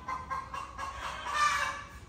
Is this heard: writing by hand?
no